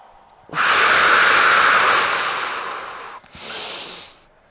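A person breathes during a Pilates mat exercise: a long, strong airy exhale close to the microphone, a brief pause, then a second shorter breath that fades out.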